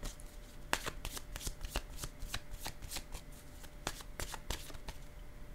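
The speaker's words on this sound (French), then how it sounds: "Je vais déposer une carte ici," Tarot cards shuffled and handled at a reading, giving a quiet run of crisp riffling snaps and soft slaps at an irregular rhythm, close and fairly faint, with no talking.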